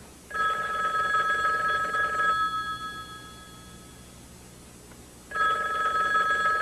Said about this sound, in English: Mom, the phone.